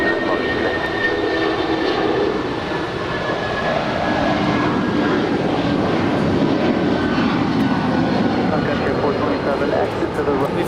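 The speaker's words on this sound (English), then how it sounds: "We've got United 1250 off to San Francisco. It's a 27-year-old 757-200." A 27-year-old United Boeing 757-200 takes off at LAX bound for San Francisco, its jet engines a steady, loud roar throughout, with people talking over the noise.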